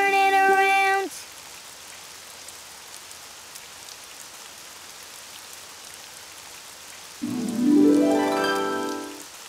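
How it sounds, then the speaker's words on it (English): Cartoon rain falling outside, a steady soft hiss of drops heard alone through the middle, with brief tonal music or voice sounds at the start and end. "Oh, it's raining outside."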